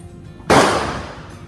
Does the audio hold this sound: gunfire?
yes